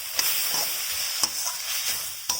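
Tomato chutney with grated coconut and tamarind sautéing in a pan: a steady, close sizzling hiss broken by a few sharp spatula scrapes and stirs at irregular intervals, with no talking.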